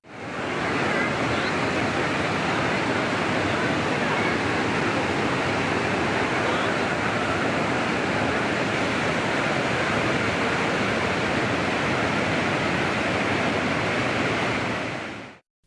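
A flash flood pours down from the Panchalinga waterfall on Thirumoorthy hill, a loud, unbroken roar of rushing water that fills the whole stretch at steady volume.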